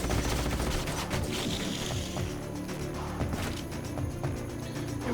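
Rapid bursts of gunfire and crashing impacts from the sci-fi strategy game Age of Wonders: Planetfall, loud and continuous, dense volleys layered over a steady battle din.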